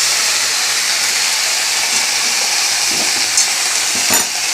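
Potato, onion and tomato tossed together into a hot pan fry with a loud, continuous hiss and crackle, joined by a few scraping stirs near the end.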